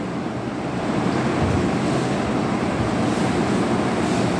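Small water waves splash and churn continuously in a flood detection demonstration, a steady rushing wash that swells slightly after the first second and holds, with no speech.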